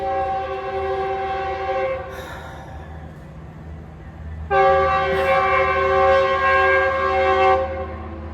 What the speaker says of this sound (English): Yay, trains.